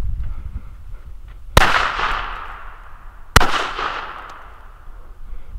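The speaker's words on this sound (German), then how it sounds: "Leider nicht alle so laut wie der zweite, aber dennoch sehr schöne Böller." Two sharp, loud bangs from 1990s Weco Chinese firecrackers about two seconds apart, each followed by a crackling, ringing decay, with a quiet background between.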